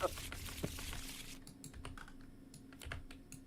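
A deck of playing cards shuffled hard at a tabletop wargame session: a dense, papery riffling burst, then scattered light snaps and clicks, quiet and close.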